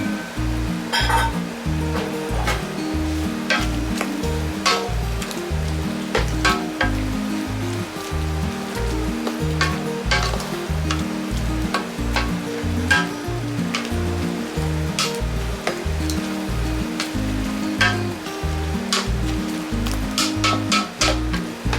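A starch-and-water sauce sizzles in a wok stir-fry of Chinese cabbage and pork: a steady sizzle with scattered sharp spatula clicks over a continuous rhythmic low backing, no talk.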